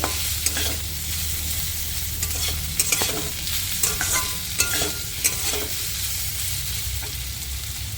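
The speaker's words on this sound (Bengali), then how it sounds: "কুমড়োটা ভালো করে নাড়াচাড়া দিতে হবে" A spoon or spatula stirs sweet pumpkin pieces frying in a pan for a Bengali pumpkin dish. Steady sizzling runs throughout, broken by repeated scraping strokes against the pan, with no talking.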